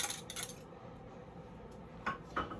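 Utensils clink lightly against dishes while minced garlic cloves go into a seafood lasagna preparation, a few faint scattered taps and clatters, quiet overall.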